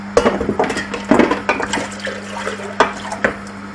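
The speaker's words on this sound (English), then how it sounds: "I'm gonna drain the beans to the colander" Cooked beans and their water are poured out into a colander, giving a close splashing gush with metallic clatters, in bursts that ease off toward the end.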